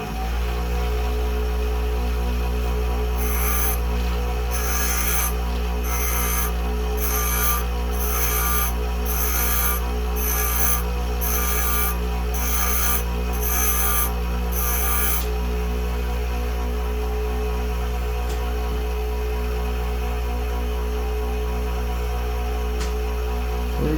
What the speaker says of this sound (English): the second method here is going to be with a bench grinder